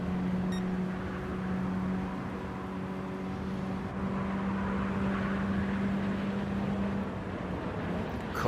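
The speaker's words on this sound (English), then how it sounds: "Being hunted down by a Boeing 747 at the minute above them" In a Mini Cooper racing game at Blue Moon Bay, a Boeing 747 flies overhead as a constant low droning hum with a steady tonal whine, layered over the continuous engine noise of the cars.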